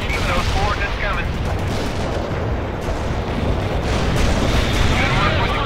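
Artillery barrages in the World in Conflict video game, a dense, continuous roar of shelling and blasts that stays loud throughout, with radio voices talking over it.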